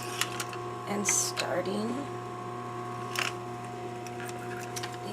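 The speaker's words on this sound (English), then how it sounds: "I am back tacking" A sewing machine motor hums steadily while back tacking a sleeve seam, with a few faint mechanical clicks, running under a person's talk.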